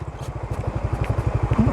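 Close engine thrum from a Honda ADV 160 motorcycle riding an off-road track, a fast even pulse with some light rattling and clatter on top, and no voices.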